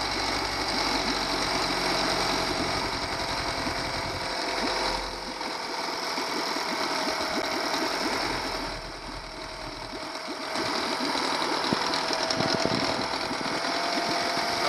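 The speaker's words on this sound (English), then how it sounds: "Motor go crazy." A DIY outboard motor with an Arduino speed controller runs in water, giving a steady whirring mechanical drone with slight dips and surges in intensity, close and continuous without talk.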